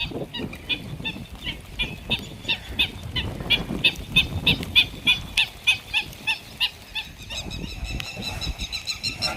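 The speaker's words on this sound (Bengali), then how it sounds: "পাখিটা প্যাক প্যাক প্যাক প্যাক করিয়ে যাচ্ছে।" A bird quacks repeatedly in a steady rhythmic series of sharp calls during a heavy rainstorm in Rajasthan, mid-distance, over constant rain and wind noise.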